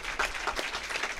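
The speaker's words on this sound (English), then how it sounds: "can we give these guys one round of applause here real quick" A brief burst of audience applause for community managers at a Startup Grind Silicon Valley talk, dense steady clapping from a roomful of people, lasting about a second.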